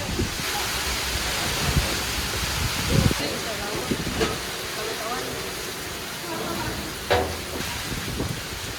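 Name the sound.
heavy rain and wind from Typhoon Kristine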